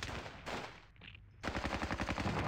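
Rapid machine-gun fire in a World War II battle video game, set at Ponyri on the Eastern Front: bursts of fast, rattling shots, a brief lull, then a steady stream of automatic fire resuming, with no talking.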